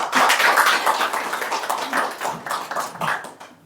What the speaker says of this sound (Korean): 김하연 선생님 초대해서 큰 박수 부탁드리겠습니다